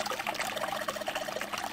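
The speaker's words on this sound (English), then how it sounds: "Hey, water's filling up." In the video game Zero Escape, water runs from a faucet and fills a basin with a soft, continuous trickle and pour, faint and alone.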